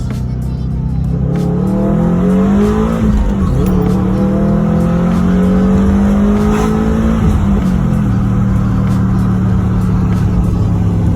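A 2002-2007 Subaru WRX/STI with a Mishimoto cold air intake revs up loudly and climbs through gears from 20 to 60 mph, the roar rising and dropping with shifts, close and sustained throughout.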